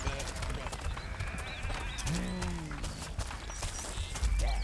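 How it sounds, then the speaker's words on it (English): A sheep bleats once in the Overlord video game, a short wavering cry amid a busy game soundscape, with a person talking over it. "So there's sheep over there."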